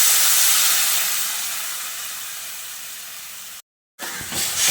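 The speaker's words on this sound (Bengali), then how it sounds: "এবারে আমি এর মধ্যে পরিমাণ মতো জল দিয়ে দিচ্ছি।" Water poured into a pan of potatoes cooking in spices sets off a loud, steady hiss of sizzling steam that fades gradually, cuts out briefly, then returns.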